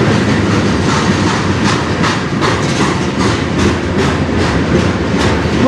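A CN freight train led by a CP locomotive rolls steadily past on the Strathroy Sub in Sarnia, Ontario, loud and close, with a continuous roar and a regular clickety-clack of wheels over rail joints throughout.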